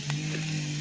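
Rice hits a hot griddle already holding onions and egg for hibachi fried rice, giving a brief, steady close sizzle with a low hum underneath.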